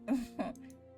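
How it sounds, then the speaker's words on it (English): A short throat clearing, two quick raspy rumbles close by, then quiet. "I clear my throat."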